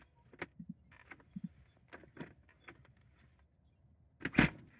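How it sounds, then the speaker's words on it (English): Doors of a Cessna 172 in the A2A flight simulator shut with a scatter of soft clicks and latch sounds, then one louder, sharper thunk near the end. "So let's close the doors now."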